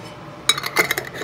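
A lid set onto a glass jar of homemade remedy, giving a cluster of light glassy clinks and taps, close and fairly quiet, with no talking.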